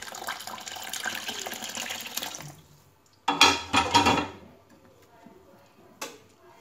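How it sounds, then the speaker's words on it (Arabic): Water poured into a cooking pot of traditional Moroccan harira: a rushing, splashy pour for about two and a half seconds, then a few louder clunks and knocks of the pot and utensils. "هنا غنضيفو الماء طايب"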